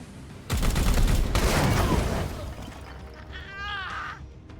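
Burst of gunfire at an explosive crate in the Warhammer 40,000: Chaos Gate video game, a rapid rattling volley lasting about two seconds, followed by a quieter trailing rumble and a brief warbling effect.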